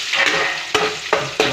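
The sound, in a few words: onions added to fried potatoes, stirred in a pan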